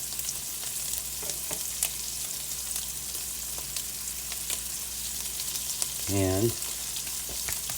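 Food sizzles and crackles steadily in bacon grease in a pan, a constant close hiss with a few light scrapes of stirring and one short spoken word near the end.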